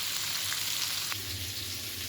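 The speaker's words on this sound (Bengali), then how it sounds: "আমি এখন জিরা ফোড়ন দিয়ে কাঁচামরিচে শুকনো মরিচ এবং তেজপাতা দিয়ে দেবো" Cumin seeds, green and dried chillies and bay leaves sizzle steadily in hot oil for a Bengali pangas fish and potato dish, a close, dense frying hiss with a couple of faint clicks.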